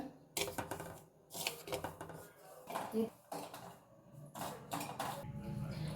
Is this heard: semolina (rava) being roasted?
yes